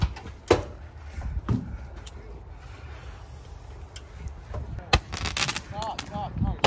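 Fireworks set off outdoors around the Fourth of July, with several sharp, loud bangs and cracks scattered through the clip amid background noise and brief voice sounds.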